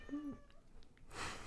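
A cat gives a single close, clear meow at the start, followed by faint rustling and a burst of broadband noise.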